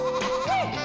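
One short goat bleat in Morocco, a wavering nasal cry lasting under a second, heard close up.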